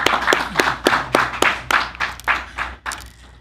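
Enthusiastic audience applause for the Soulful Voices singers at a Freedom Month kick-off event, a run of sharp rhythmic claps and slaps that stays loud and close for a few seconds before thinning out.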